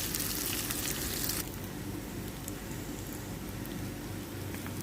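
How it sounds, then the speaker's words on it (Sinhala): Meat frying in a little oil in a pan until golden brown, a steady close sizzle and crackle throughout that is brighter and louder for the first second and a half, then settles to a softer even hiss. "දැන් මේ විදිහට තෙල් ටිකක් දාලා හොඳට රන්වන් පාට වෙනකන් බැද ගන්නවා."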